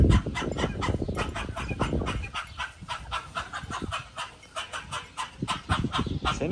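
Australorp hens clucking on a farm, a run of close, repeated clucks and soft cackles with a busy uneven rhythm, moderately quiet with no voices.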